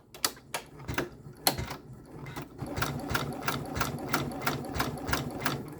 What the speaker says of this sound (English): Now I'm going to hold it loosely and hit start once and then once again.